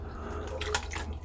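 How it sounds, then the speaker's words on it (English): Six cups of stock poured into a soup pot of chicken borscht, a short close splash and gurgle of liquid in the pot. "6 cups of stock going in there."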